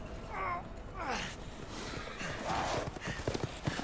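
Rapid clip-clop of horse hooves in Resident Evil Village patters steadily under noisy game sounds, with a few faint voice-like cries mixed in.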